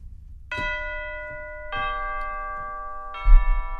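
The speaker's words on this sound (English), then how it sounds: "down here, we have the tubular bells," Tubular bells from a Cinesamples orchestral sample library ring out in three separate clear metallic strikes, each leaving long sustained bright overtones that decay slowly, played alone with no other instruments.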